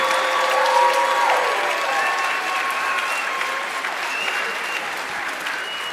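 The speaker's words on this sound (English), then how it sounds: "Let's have another round of applause for our chorus." Elementary school winter concert audience applauding the chorus, loud sustained clapping with scattered cheers and whoops rising over the steady wash, fading slightly toward the end.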